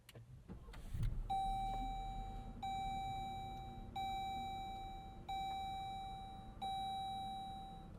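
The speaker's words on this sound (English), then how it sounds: "this WL still has kind of the old school Jeep chime" A 2026 Jeep Grand Cherokee's interior start-up chime sounds a steady repeating electronic ding at regular intervals, after a brief thump and low engine hum underneath.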